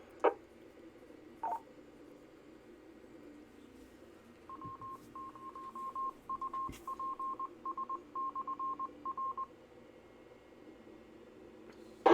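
A ham radio repeater channel with faint static hiss is keyed up by an EchoLink connection, followed by a rapid string of DTMF touch-tone dialing beeps and a few clicks.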